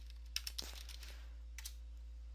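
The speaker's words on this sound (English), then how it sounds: "I'm going to type in control panel" A few light keystrokes tap on a computer keyboard, brief clicks in short bursts over a steady low electrical hum.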